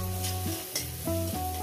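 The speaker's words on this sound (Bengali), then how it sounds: "এবার এখানে আমি সুন্দর করে একটু ভেজে নেব, 1 মিনিট একটু ভেজে নেবো।" Egg mixture fries gently in a pan over low gas, a faint hiss and light stirring heard briefly beneath louder background music.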